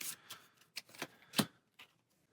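Valeria Card Kingdoms playing cards being shuffled by hand: a series of short, crisp riffling bursts and snaps at irregular intervals, close and fairly quiet, with no talking.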